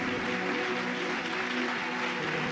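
A church congregation applauds and cheers during a sermon. The sound is a steady, dense wash of clapping and crowd noise that runs unbroken at even strength throughout, with a faint tonal hum underneath.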